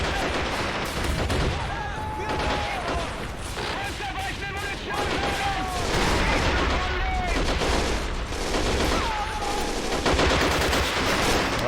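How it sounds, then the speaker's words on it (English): Dense battlefield gunfire in Men of War: Assault Squad 2 at Stalingrad, with rapid machine-gun bursts and repeated autocannon fire crackling nonstop, and whistling, sliding tones drifting through the din, while a voice talks over it. "There's still an autocannon up there in that building."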